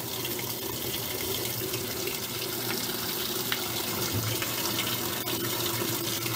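Warm water runs steadily from a tap into a bucket being filled for washing microfiber towels, a constant splashing rush with no talking.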